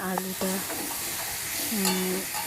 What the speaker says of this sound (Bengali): এবার আমি ভালো মতো নাড়িয়ে নিচ্ছি